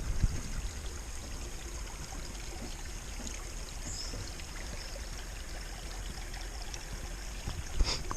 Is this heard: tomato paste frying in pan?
no